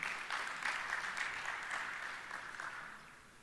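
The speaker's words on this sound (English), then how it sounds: "So big round of applause to our admin team." Applause from a gathered audience honoring an office admin team, a dense wash of many hands clapping steadily, then gradually thinning and fading toward the end.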